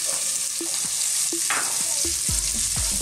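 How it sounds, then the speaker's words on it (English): Onions and bacon dropped into a pan of hot olive oil on high heat, giving a loud, steady, bright sizzle with clicks and scrapes of stirring close by. "We're now gonna drop in, on a high heat here, our onions"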